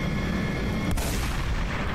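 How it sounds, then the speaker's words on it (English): A golden Desert Eagle fired in the Ravenfield video game, one sharp booming shot over a steady low game background, followed by a brief thump at the end. "It sounds like an AWP from Counter-Strike."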